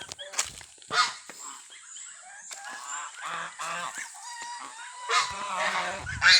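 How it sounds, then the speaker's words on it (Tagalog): Several domestic geese honk repeatedly at close range, harsh nasal calls overlapping in bursts with brief pauses between them. "Mga alaga kong gansa."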